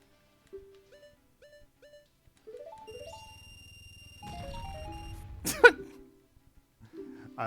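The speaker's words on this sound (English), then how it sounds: "It's the sound of the falling tower." Falling tower sound from the Zelda Majora's Mask video game, a series of short chiming synth tones followed by a low rumbling descent and a bright crash, with sparse game blips around it and no talk.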